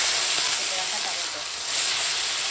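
Bay leaf dropped into hot oil left from frying papad, a continuous hissing sizzle that dips briefly midway and then swells again, close and fairly loud.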